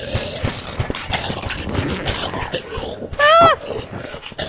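A creature in the VR game Animal Company gives a dog-like call that rises and falls, heard briefly and loudly in the middle of excited chatter from the players.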